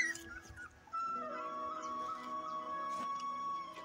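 Dog whimpering with high tonal whines and yips over a busy, cluttered background at a lively dog procession in a decorated car, close and fairly steady through the clip.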